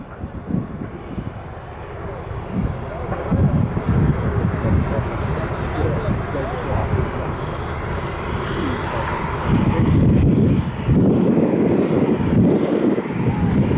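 A light general aviation training aircraft, an extraordinarily quiet type, passes at an airshow. Its engine drone is steady and moderate and swells somewhat toward the end, mixed with wind noise, while people talk over it.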